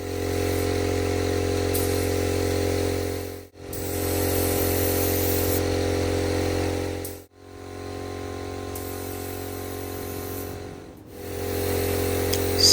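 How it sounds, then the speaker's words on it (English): Spray gun laying a 2-to-1 catalyzed clear coat onto a pickup truck bed, a steady loud hiss with a compressor-like hum beneath, broken by three brief pauses between passes. "So this is where I am adding the clear coat, and it's going on okay."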